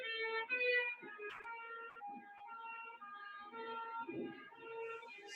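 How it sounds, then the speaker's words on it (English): A police siren wails steadily with layered tones, growing slightly and rising in pitch as it approaches, with a brief horn-like blip and faint traffic noise beneath. "here we have a video of a police siren approaching an observer"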